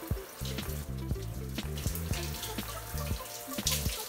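Water splashes and runs steadily while hair is washed during a shampoo, with a constant flowing wash and a rhythmic tonal sound underneath.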